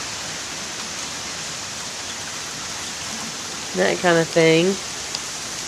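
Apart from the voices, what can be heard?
heavy rain during Hurricane Irene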